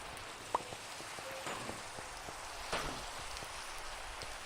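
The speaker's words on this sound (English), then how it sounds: "I love the rain" Steady rain falling in modded Minecraft, a soft continuous hiss with scattered faint drop ticks, quiet and even throughout.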